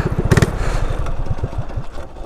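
A small engine on a drift trike putters and pops in quick uneven pulses on a first ride, loud and close, with a sharp clattering burst near the start.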